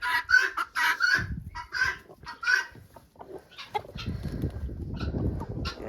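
Chickens cluck and squawk inside a coop on a farm in winter, with several close, bright calls early on, followed by rustling and lower scratching noises.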